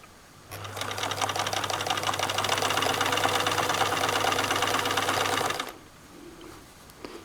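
Sewing machine running slowly along the underarm seam of a Greer jumpsuit romper, a steady close whirring hum for about five seconds before it stops.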